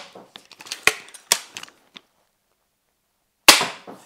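Several sharp, snapping impacts of crossbow bolts hitting a target cube land in an irregular cluster, followed by silence and then one final loud crack that rings out briefly.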